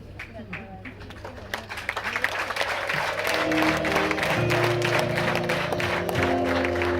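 Guests at a Rwandan betrothal and dowry ceremony applaud and ululate for the groom: clapping swells from scattered claps into dense applause, joined by sustained high ululating trills, with voices talking underneath.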